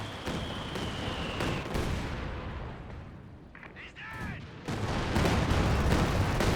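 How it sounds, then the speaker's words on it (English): A Katyusha rocket barrage in Company of Heroes 2 roars as a sustained rumbling salvo with whistling rockets and impacts, with a louder wave near the end, under commentary. "You have Katusha Barrage there, wipes out that Grenadier squad"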